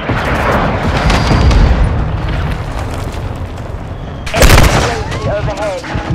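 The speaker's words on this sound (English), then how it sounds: "Friendly cruise missile approaching target." Cruise missile explosion in Call of Duty: Modern Warfare II, a loud deep boom rolling over ongoing battle rumble, followed by lingering debris and crackle, with a radio-style voice talking early on.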